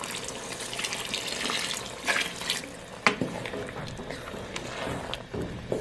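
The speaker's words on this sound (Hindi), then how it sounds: "चनों का पानी खा हुआ था, इसका हमने ज़ाया नहीं किया है, वो हम इसके अंदर शामिल करेंगे।" About one and a half cups of leftover chickpea cooking water poured into a pot of Lahori chikar cholay, a steady, moderately loud splashing gush that runs continuously with a few sharper spatters.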